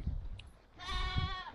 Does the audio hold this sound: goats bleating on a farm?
yes